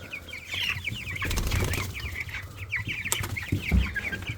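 Hens on a farm cluck excitedly around feeding time, with dense overlapping clucks and bursts of wing flapping nearby, some louder flaps standing out.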